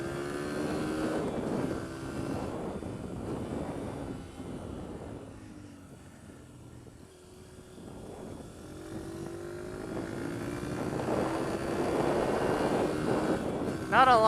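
Honda CRF150F dirt bike engine revving and droning with rising and falling pitch, held at higher revs toward the end, close and steady, with people talking over it.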